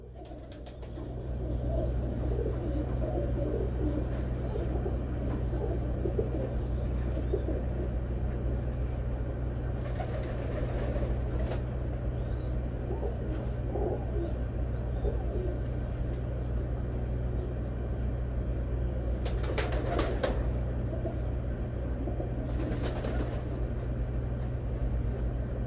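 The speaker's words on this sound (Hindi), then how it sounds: "एक हाथ में मैंने कबूतर पकड़ लिया" A pigeon held in a hand cooing with a low, steady drone among other close bird sounds. Faint clattering bursts come through now and then.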